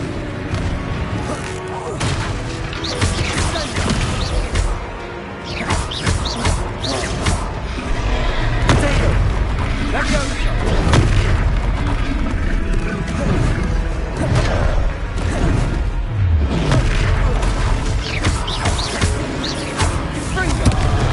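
Confringo fire spell blasts in Hogwarts Legacy on PS5, loud booms and crashes layered over constant battle noise and music, with occasional voices.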